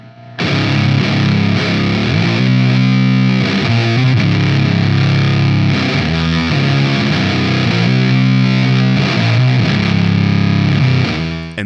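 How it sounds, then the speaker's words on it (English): Guitar through a Vexed Brain Sphinx Moth fuzz pedal, a thick, loud, heavily distorted doom riff with sustained low end, played continuously and alone for the whole stretch. "The fuzz on its own creates a haunting sustain and low end"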